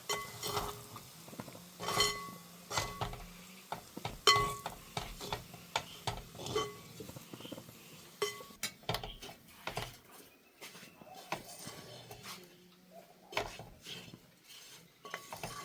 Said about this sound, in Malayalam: ഒരു ടീസ്പൂണ് ഉലുവാപ്പൊടിയും കൂടെ എന്നിട്ട് നല്ലപോലെ ഒന്ന് ഇളക്കി കൊടുക്കാം.